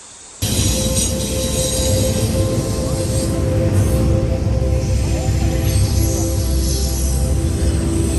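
A train rumbles past nearby, a continuous heavy roll of wheels with metallic squeal, loud and steady throughout.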